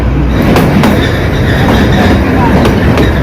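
Kalka-Shimla toy train running loudly and steadily up close, with continuous rumble, wheel clatter and a few sharp rail clicks throughout.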